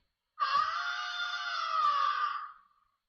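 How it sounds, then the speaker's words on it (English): A single long, high shriek in an Alexa adventure story breaks out after thunder and a flash of light. It is loud and sustained for about two seconds, then fades out against silence. "We hear a horrible shriek."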